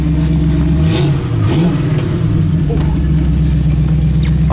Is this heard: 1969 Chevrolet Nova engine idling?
yes